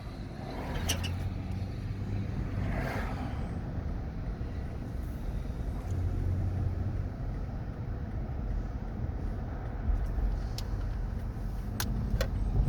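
A car drives along a quiet residential road in Bel Air, a low steady rumble of tyres and engine with faint passing noises and a few light ticks near the end.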